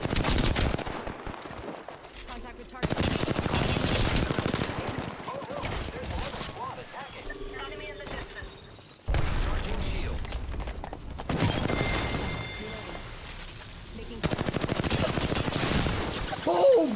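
Bursts of automatic gunfire in the Apex Legends battle royale shooter, loud dense volleys repeating in several long stretches with brief gaps between them.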